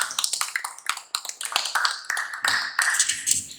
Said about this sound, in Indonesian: tepuk tangan untuk saudara Ahmad.